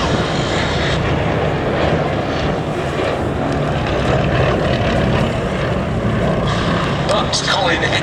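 A Westland Lysander flying at the Duxford Battle of Britain airshow gives off a loud, steady propeller-engine drone that holds for the whole stretch, heard at moderate distance with a commentator talking over it.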